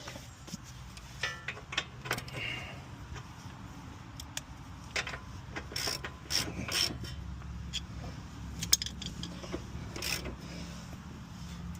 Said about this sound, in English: time to tighten the bottom nut